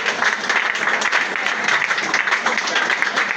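A congregation applauds during a prayer service, producing dense, continuous clapping with voices mixed into the sound.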